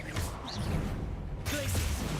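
Expelliarmus disarming spell cast in Hogwarts Legacy: a loud magical whoosh and crackling burst, a brief near-silent break, then another swelling surge of spell effects.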